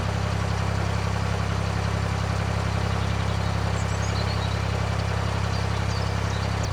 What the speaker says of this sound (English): There's a boat coming down towards me